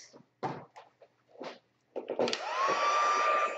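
A heat gun warms gold embossing powder on a stamped card, a steady blowing whir that starts after some brief handling noises and holds loud and continuous to the end.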